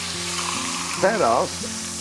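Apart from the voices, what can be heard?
meat frying and browning in a pan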